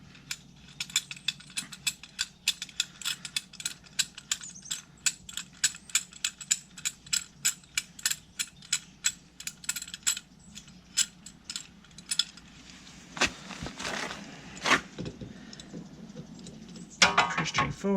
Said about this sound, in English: now we're going to push this caliper piston back in. This is where you use your C-clamp to get everything pushed back together